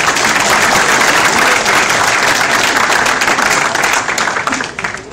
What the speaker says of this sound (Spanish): Vamos a darle a Cristian energías como a través de un fuerte aplauso